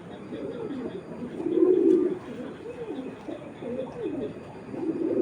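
A racing pigeon coos repeatedly nearby, soft rolling calls in an uneven rhythm over quiet background noise.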